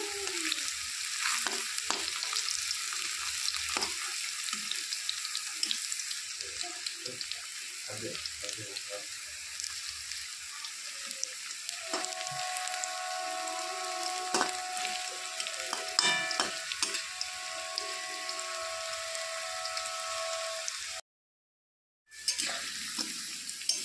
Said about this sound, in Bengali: তো এইভাবে খুন্তি দিয়ে উল্টে পাল্টে ভালো করে ভেজে নিচ্ছি